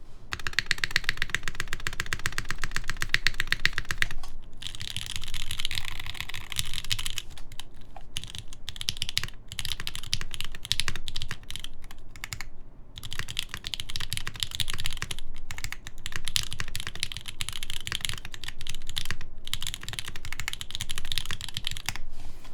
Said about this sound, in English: Can you press the space bar on the purple one?